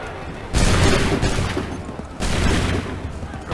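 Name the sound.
musket volley fire in Assassin's Creed 3 video game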